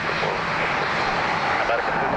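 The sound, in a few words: airplane landing at Dublin Airport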